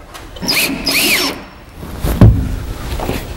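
A power drill drives screws into a cabinet face frame, with two whirring runs that rise and fall in pitch, then a sharp knock and a shorter whir, close and loud.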